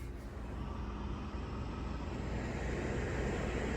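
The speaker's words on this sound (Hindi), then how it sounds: "आई होप कि आपको जो है इसका फैन का आवाज जो है सुनाई दे रहा होगा" Ventilated front seat fan in a car priced around Rs 50 lakh, blowing air as a steady, even whoosh of broadband noise that holds close and constant throughout, with no talking.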